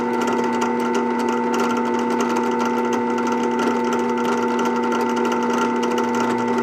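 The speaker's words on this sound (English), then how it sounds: "The first hole got successfully drilled." A drill boring a hole through a wooden handle into steel for a karambit knife, a steady loud whining motor hum with a constant pitch, close and unbroken throughout.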